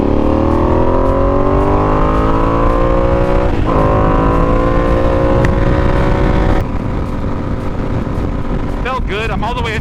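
A Ducati V2 motorcycle accelerating hard on a highway, its engine note climbing steadily in pitch as it pulls through gears. It is loud and close, with heavy wind rush throughout.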